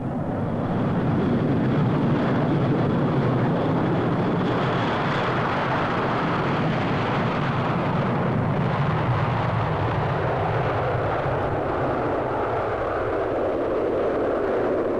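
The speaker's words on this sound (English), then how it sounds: "This Comet 1 is being used experimentally with 2 Sprite rocket motors for assisted takeoff." A de Havilland Comet 1 jet airliner takes off with two Sprite rocket motors assisting, heard at an air show as a loud continuous roaring rush that holds steady throughout.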